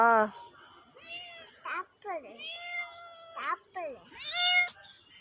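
A hungry cat meows repeatedly up close, several rising and falling cries spaced over a few seconds, over a constant high-pitched whine in the background.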